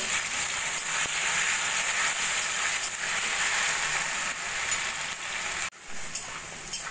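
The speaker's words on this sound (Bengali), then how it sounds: "আমি গাঠিগুলো একটু ভাজা ভাজা করে নেব" Cut taro stems (gathi kochu) frying with salt in hot oil, a loud, close, steady sizzle that hisses evenly throughout, with one brief dip near the end.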